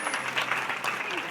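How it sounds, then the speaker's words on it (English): A short burst of audience clapping at a seal training show at Taronga Zoo, dense and steady, with a voice talking at the same time. "Give him a round of applause"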